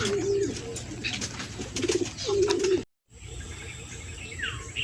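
Racing pigeons coo in a loft, soft throaty calls repeating close by over a steady background hum, then a brief cut, after which fainter chirps and ambience continue without speech.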